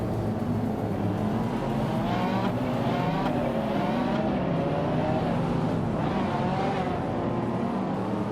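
Lamborghini race cars, including Aventadors, roaring around a racetrack, with steady engine drone and rising and falling revs as cars pass, loud and continuous throughout.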